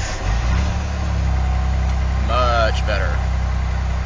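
A supercharged Ford Thunderbird SC engine running steadily during break-in, with a constant low drone throughout and a brief spoken remark over it partway through.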